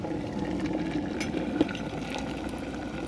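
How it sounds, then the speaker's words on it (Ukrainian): A soft, continuous stream of hot water pouring into a cup holding a tea bag, with a gentle bubbling trickle and no talking. "заливатиму гарячою водою"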